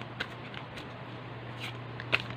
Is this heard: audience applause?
no